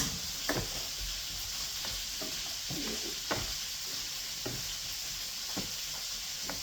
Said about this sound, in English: And now, let's mash our potatoes.